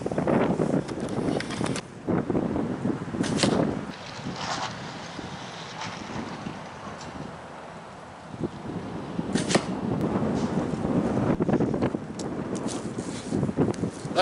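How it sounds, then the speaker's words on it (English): Gusty outdoor wind buffets a camera microphone in loud, rumbling bursts that rise and fall, dipping briefly midway before surging again. "I don't know how much wind noise this camera's picking up, but it is windy today"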